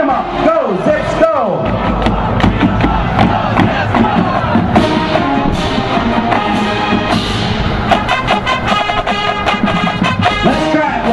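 Crowd chanting and cheering at the Akron Zips Invitational marching band event, a dense, loud, continuous roar of voices with rhythmic shouted accents, close and sustained throughout.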